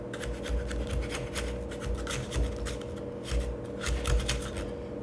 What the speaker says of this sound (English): you can just use a knife to scrape it off